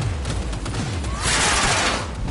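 Gunfire in the video game Cyberpunk 2077, a dense, continuous barrage of rapid shots and crackling impacts that grows louder and fuller about halfway through and carries on to the end.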